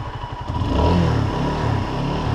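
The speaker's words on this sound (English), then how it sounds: "the bike is started, the bike is fully warmed up, so now you can hear it" A 2012 Honda CBR125R with stock exhaust, fully warmed up, idles with a steady burbling chug, then revs up briefly and settles back, close and fairly loud.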